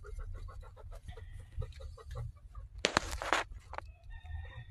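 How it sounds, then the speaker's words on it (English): Farm chickens cluck in a quick series of short calls, with one louder squawking burst midway, heard at moderate distance in a quiet outdoor setting. "Fucking chickens."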